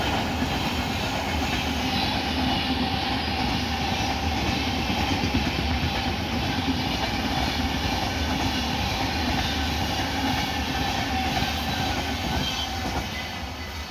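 The Hazrat Nizamuddin–Thiruvananthapuram Rajdhani Express passes through platform 2 without stopping, a loud, steady rumble of wheels and clattering coaches that holds for the whole pass and eases slightly at the end.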